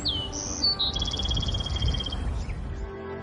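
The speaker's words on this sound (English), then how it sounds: "you can hear the birds chirping and the trees" Birds chirp outside a home in Texas, high whistling calls near the start over a continuous low outdoor rumble.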